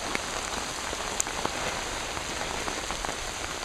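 Steady rain falling on a hike, a dense even hiss with scattered droplet taps on nearby surfaces, continuous and fairly close with no voices.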